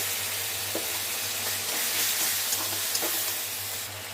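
Mutton boiling water is poured into a wok of sizzling masala for mutton keema, giving a steady, close frying hiss that holds for a few seconds.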